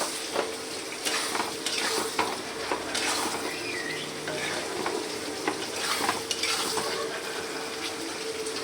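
Masala spices sautéing in a pan as a spoon stirs and scrapes, a continuous sizzle with intermittent metallic clinks close up and no one speaking.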